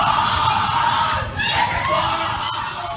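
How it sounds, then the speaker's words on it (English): Skull and Bones initiation ceremony: a dense, noisy room of shouting and shrill screaming voices, harsh and continuous with a brief dip midway. "What you're hearing is the first recording ever made of the Skull and Bones initiation ceremony."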